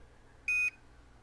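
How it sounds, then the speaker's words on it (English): A single sharp electronic beep, clear and steady, lasting about a quarter second against a faint background hum. "So when you're going to hear 2 beeps."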